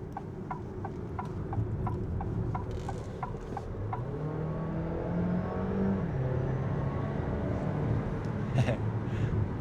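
A 2025 Alfa Romeo Tonale Tributo Italiano hybrid SUV accelerating, heard from inside as a steady engine hum rising in pitch with road rumble, alongside a run of faint ticking clicks early on and no speech.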